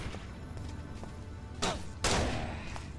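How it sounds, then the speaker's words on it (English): Two sharp, loud pistol shots in the video game Deus Ex: Invisible War, about half a second apart, the second ringing out longer, over a low steady background hum. "Sounds like a job for a pistol."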